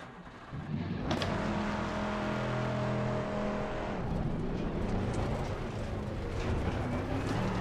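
A race car in Assetto Corsa Competizione pulls out and accelerates through a lap, its engine revving up through the gears with rising and falling pitch, loud and continuous.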